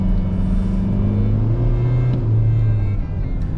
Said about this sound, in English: The tach goes up slowly and with so much noise that you feel like you're driving a tractor